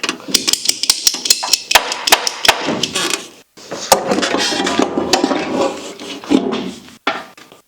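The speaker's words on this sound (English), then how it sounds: "PVC cutters, let's just take it off real quick. Let's cut it off down here." Cutters snip and work at an old line under a 1966 Ford Fairlane during 289 engine removal, giving a series of sharp clicks and crunching scrapes, then denser rubbing and cracking, close and fairly loud.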